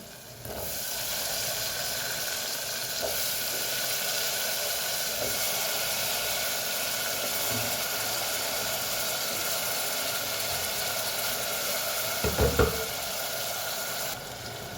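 Onion and potatoes sizzle and hiss steadily in a pan of tomato and water, a constant broadband frying noise with a brief louder clatter near the end.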